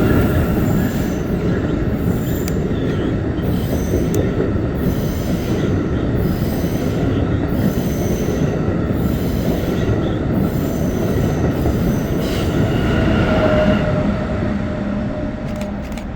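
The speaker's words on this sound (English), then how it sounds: "another Amtrak Avalia train came around the corner, coming from New York heading to Boston" An Amtrak Acela train heading from New York toward Boston rolls past at close range, a steady loud rumble of wheels on rail with high metallic squeals and rattling carriages that holds for the whole passage and eases slightly at the end.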